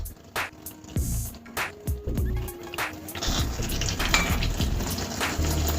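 Kobbari burelu, a Telugu coconut sweet, frying in hot oil over a medium flame, with a steady busy sizzle under clinks and scrapes of a metal ladle against the pan, close and fairly loud.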